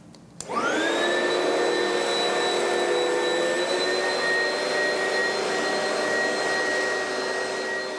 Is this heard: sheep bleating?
no